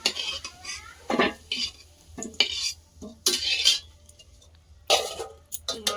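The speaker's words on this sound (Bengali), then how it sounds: "আলুটা ভাজা হয়ে গেছে, এবার তুলে নেব।" Fried potatoes are lifted out of a pan, producing bursts of metal utensil scraping and clattering against cookware over a faint background sizzle, close by and uneven in rhythm.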